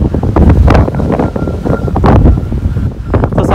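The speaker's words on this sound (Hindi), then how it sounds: "बहुत तेज आवाज हवा चल रही है अभी" Strong wind gusting over a hilltop at Mullayanagiri, buffeting the microphone with loud, continuous low rumble and surging gusts throughout, no voices.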